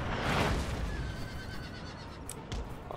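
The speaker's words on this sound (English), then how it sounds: "I just hear the horses running" Massed horses in a Napoleonic Total War 3 battle give a low, rumbling drum of hooves with a whinny rising over it and faint scattered battle noise, at moderate loudness with no talking.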